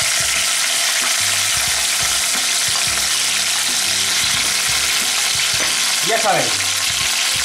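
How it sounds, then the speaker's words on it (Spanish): Hake heads and skin crackle and spit in hot oil, a loud steady sizzle running throughout with a few clattering stirs near the end and a brief word of speech at the start. "Ya tenemos el aceite caliente, añadimos las cabezas y la piel y la piel de la merluza."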